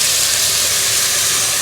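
Food sautéing in a pan for jeera rice with brinjal pachadi gives a steady, loud hiss and sizzle, broadband and unbroken throughout, with no voices over it.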